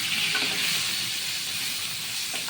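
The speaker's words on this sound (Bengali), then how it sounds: "এখন আমি এটা ভাজছি" Potato and pointed gourd rubbed with salt and turmeric fry in hot oil, giving a steady close sizzle and hiss with no voices.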